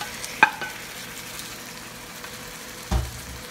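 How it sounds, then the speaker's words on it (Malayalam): Fried chicken is stirred into a biryani masala for Kerala chicken dum biryani, with a faint sizzle under two brief clattering knocks of a utensil against the pot, close but fairly quiet and without speech. "അതുപോലെ ഇനി നമ്മൾ വറുത്ത് വെച്ചേക്കുന്ന ചിക്കൻ ഇതിലേക്ക് ചേർത്ത് കൊടുക്കാം"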